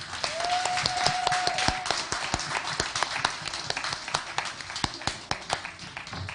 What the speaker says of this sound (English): Let's give him a big round of applause for a job well done.